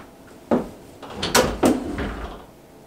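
Closet doors being lifted off in a home closet-to-mudroom conversion give a few close wooden knocks and clunks, with a sharp bang near the start and two louder thumps in the middle, alone without talk.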